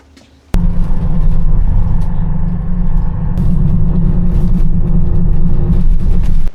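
A city bus in Tibet idles with a steady low rumble right after a passenger steps off. It starts with a sharp click and then holds loud and even, with faint traffic noise around it.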